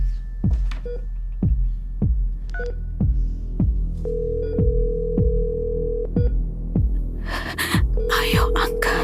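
A phone call rings out unanswered: a steady ringback tone sounds in spaced bursts beneath a low, regular throbbing pulse, with a brief breathy voice near the end.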